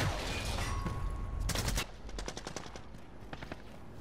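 An AA12 automatic shotgun fires in a video game as a fast burst of booming shots, followed by a quieter rhythmic string of reports and clicks that trail off.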